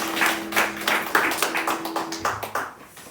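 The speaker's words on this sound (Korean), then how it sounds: "우리 하나님께 영광의 박수 올립니다" Congregation clapping together during a Korean church Sunday morning service, a steady rhythmic run of claps at a moderate distance, with a sustained organ or keyboard tone underneath and no talking.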